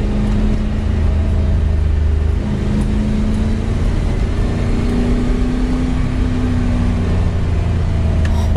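An MGB GT V8 coupe's engine hums steadily and loudly throughout while driving, a continuous low drone with a faint rising tone and no speech over it.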